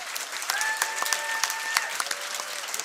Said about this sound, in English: Let's have a big round of applause for the 1962 boys track and field team.